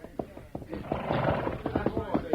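A white stallion neighs in an old radio drama, a loud whinny sound effect rising out of speech and filling most of the short span, with hoof-like thuds and voices around it.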